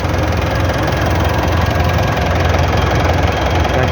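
A 2009 Mitsubishi Montero Sport's 2.5-liter common-rail diesel with a variable geometry turbo idles loud and close, a steady rumbling clatter with no talk over it.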